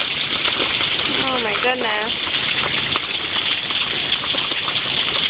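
A heavy rainstorm pours down with a steady, dense hiss of rain and running water throughout. A voice briefly exclaims over the downpour.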